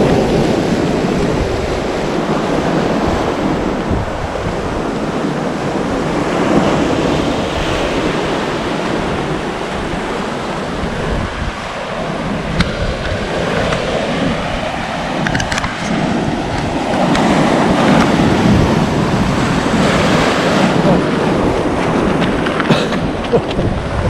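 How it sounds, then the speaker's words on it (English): Powerful ocean waves crash and surge continuously onto a rugged Canadian beach strewn with mussels, a loud, dense roar of surf with wind buffeting the microphone throughout. "The power of the water, power of the ocean."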